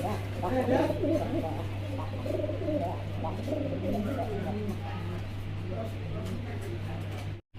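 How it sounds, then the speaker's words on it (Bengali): Fancy racer pigeons coo softly and repeatedly over a steady low hum, with voices talking in the background at a pigeon market. "এখানে আরেক জোড়া কবুতর আছে"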